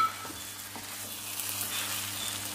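Ground cashew paste hits a hot frying pan for white biryani, giving a steady close sizzle and frying hiss with faint stirring scrapes, with no talking.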